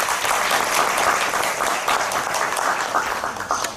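Loud, sustained applause from a conference audience on climate-friendly school meals, steady clapping filling the whole stretch and tapering slightly at the end.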